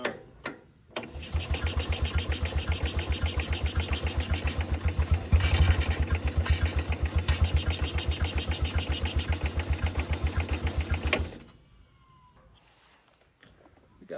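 An International Cub Lo Boy tractor engine chugs close and loud with an even, rapid pulsing beat for about ten seconds before it cuts off abruptly into near quiet.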